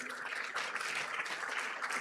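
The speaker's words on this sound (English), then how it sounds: "Please, a round of applause for him." Faint, distant applause at a school quiz competition event, a soft continuous patter of many hands clapping with no voices standing out.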